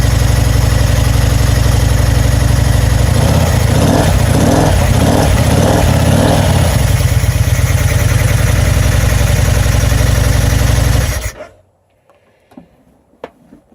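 A 2000 Excelsior-Henderson motorcycle engine idles while warming up, with a loud, close, steady rumbling throb that runs unbroken for about eleven seconds before being cut off, leaving only faint clicks.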